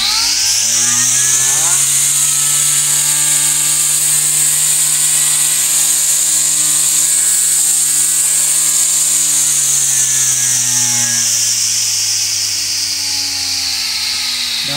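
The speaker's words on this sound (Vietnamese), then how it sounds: "rồi tổng thể của cái máy cắt cỏ thì anh em thấy ha, rất là gọn gàng ha. Ở đây là em chỉ việc bóp cái là chạy nè." A battery-powered grass trimmer from a Japanese domestic-market lot runs at high speed: a steady, loud motor whine with a sustained tone that dips slightly near the start and end, heard alone with no talk.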